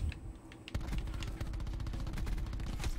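Gunfire in a multiplayer video game private match, with rapid bursts of shots in quick succession, moderately loud and continuous over background game noise.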